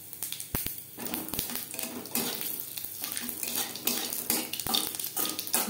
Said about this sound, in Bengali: ফোড়নে দিয়ে দিলাম 2 শুকনো লঙ্কা, যেটা আমি টুকরো করে নিয়েছি